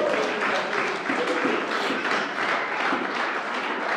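A church congregation applauding, a dense, steady wash of many hands clapping together that carries on without a break, full and close.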